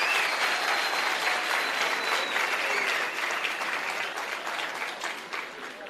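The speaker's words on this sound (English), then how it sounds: "I want yourself to give yourself a very good hand of applause." Sustained audience applause fills a lecture hall, a dense wash of clapping from many hands that stays loud throughout and eases slightly toward the end.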